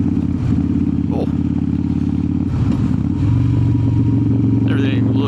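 A 2003 Harley-Davidson Softail Standard motorcycle is ridden, its engine a loud, steady low rumble with a lumpy, pulsing idle-like beat that deepens and strengthens slightly partway through, heard up close with wind noise.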